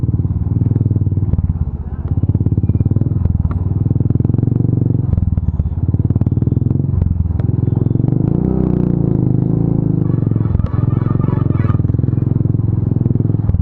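A motorbike rides over a rough, rutted road on a trip from Kolkata toward Raiganj and Darjeeling, its engine droning steadily while the frame clatters and scrapes over bumps, with voices heard at times.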